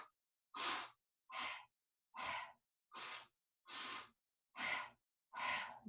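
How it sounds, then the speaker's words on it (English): Breathing during a Pilates class, paired short sharp inhales through the nose and exhales through the mouth, eight quick close breaths in a steady rhythm separated by silence. "2 short exhales through the mouth."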